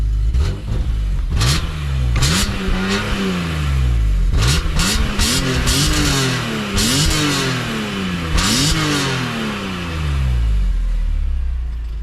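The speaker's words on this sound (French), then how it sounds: "Le vrai son de BM. Ouais. Le son du straight inline 6." A stock BMW M3 E46 with its straight inline-six is revved repeatedly, each blip rising sharply then falling back, loud and close with a metallic rasp, no talk over it.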